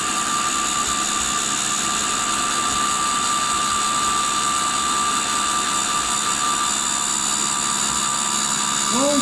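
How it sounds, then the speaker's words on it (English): Tool and cutter grinder running a cutoff wheel, a steady high-pitched whine with a shrill ringing tone and dense hiss, continuous and loud throughout at close range. "I'm just watching the spark and listening to that wheel."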